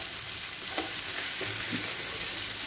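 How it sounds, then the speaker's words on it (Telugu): Ivy gourd (dondakaya) fries in a pan with a steady, close hiss and sizzle, broken by a few soft stirring scrapes partway through. "కొంచెం టైం పడుతుంది దొండకాయ ఫ్రై అవ్వాలంటే"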